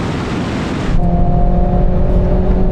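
Engines of a BMW M340i, Mercedes-AMG A45 and Alfa Romeo Stelvio QV accelerating hard in a drag race, a loud, steady roar from inside a car with rising tonal engine notes after the first second.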